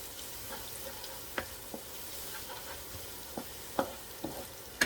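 Sliced garlic and young ginger sizzle gently in a pan for tofu stewed with shiitake mushrooms, a soft steady frying hiss with occasional stirring clicks and spatula scrapes.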